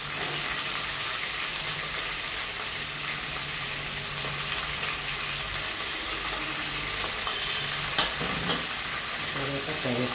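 Soaked moong dal sizzling steadily in a hot pan for upma, with a spoon stirring and scraping through it, a constant close frying hiss with a couple of clinks near the end.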